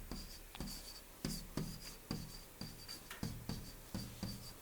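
Pen or marker writing by hand during a maths lesson on logarithms, a quick series of short scratchy strokes and taps repeating at an irregular rhythm, quiet and close.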